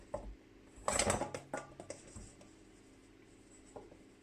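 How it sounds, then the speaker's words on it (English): Cake flour mixture for a red velvet cake being sieved again in a kitchen, a soft, faint patter of rattling and tapping strokes clustered early, then trailing off into quiet. "All right, back in there and we sieve it again."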